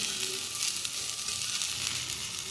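Vegetables frying in oil in a wok with turmeric and salt, a steady close, dense sizzle with faint stirring and no voices.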